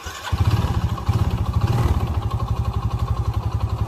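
A Yamaha Jupiter FI motorcycle engine with a worn camshaft starts up and settles into a fast, rhythmic idle with a knocking clatter, close and fairly loud.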